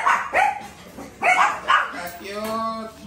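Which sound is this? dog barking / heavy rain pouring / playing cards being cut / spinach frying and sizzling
dog barking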